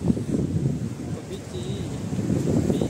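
Beach wind at Malpe beach in Udupi, gusting buffeting rumble hitting the microphone in uneven surges, with people talking faintly underneath.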